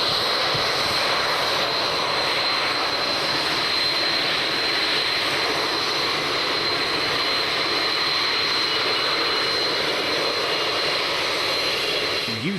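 Military jet aircraft at the 1994 Mildenhall Air Fete, including Jaguars, make a loud, sustained roar with a steady high whine running the whole way through. No talk is heard.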